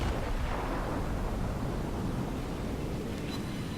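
Naval gunfire in World of Warships rumbles as a dense, continuous roar of distant cannon blasts and booming bursts over ocean noise, steady and fairly loud throughout with no speech.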